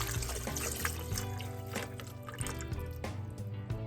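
Almond milk is poured into a blender, a close, continuous trickling and gurgling stream of liquid lasting a few seconds with no talk.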